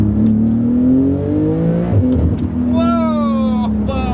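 A Porsche 911 GT3 RS with a PDK gearbox accelerates hard on a road, its engine note rising through the revs and dropping with quick gear changes, loud and close from inside the cabin, with a voice talking over it.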